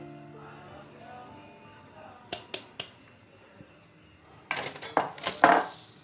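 Salt is scattered and spread across a pan for baking an eggless jaggery cake on the stovetop, heard as a few sharp metallic taps followed by a gritty scraping rattle, with a person talking at the start.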